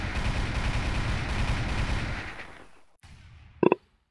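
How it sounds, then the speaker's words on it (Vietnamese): Sustained automatic AK rifle fire from a desert-map match in a competitive shooter game, a dense rapid burst that fades out, followed after a brief pause by a short sharp crack. "AK nổ hàng băng 1."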